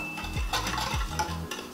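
A whisk stirs sugar and cinnamon in a glass Pyrex dish while making Nutella French toast, giving a few quick, close scraping strokes against the glass with light clinks.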